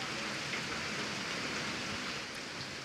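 Steady rain falls across the Saurashtra region of Gujarat during a monsoon downpour, a dense even hiss of drops on surfaces that holds at constant loudness throughout with no voices.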